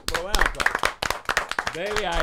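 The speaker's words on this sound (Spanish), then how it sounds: "Aplauso." Sharp hand claps ring out in bursts at a Dominican radio show studio, mixed with lively overlapping talk and shouting close to the microphone.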